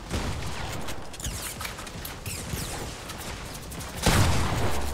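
Rapid bursts of gunfire in a Fortnite Battle Royale squads match, dense overlapping shots throughout with a louder, heavier volley near the end, no talking.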